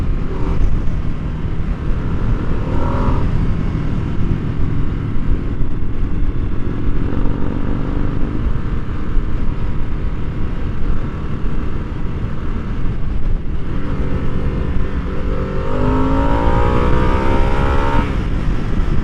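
A 2022 Harley-Davidson Nightster motorcycle engine at full throttle, a loud continuous rumbling roar with wind noise and rising revs that climb sharply near the end.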